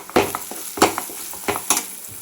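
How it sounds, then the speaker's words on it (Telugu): Washed dried shrimp being stirred in hot oil for a tomato curry: a close, loud sizzle with four distinct scraping spoon strokes against the pan, no voices. "కడిగిన రొయ్యలు ఈ ఆయిల్లోకి వేసుకొని కొద్దిగా కలుపుకోవాలి"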